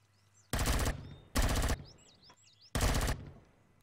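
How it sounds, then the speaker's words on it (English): A gun in the video game Empyrion fires three loud, close three-round bursts with short pauses between them, while bird chirps twitter faintly in the gaps. "It still has this 3-round burst sound."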